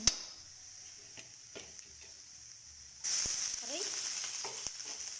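Garlic first and then onion sautéing in oil in a pan, a faint sizzle with a few sharp clicks that swells suddenly into a louder, steady hiss as more goes in, close, with a brief spoken word.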